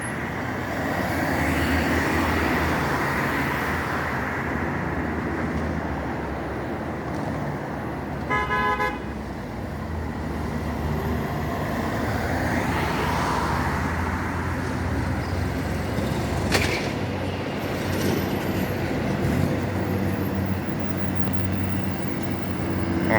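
A Kenworth truck hauls along a Jamaican highway with a loud, continuous roar of engine and road noise, and a short horn toot cuts in partway through.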